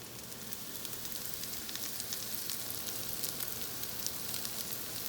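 Chicken cutlets for chicken parmesan fry on medium heat in a pan, a dense, even crackling sizzle with scattered sharp pops, close and unbroken, with no voices.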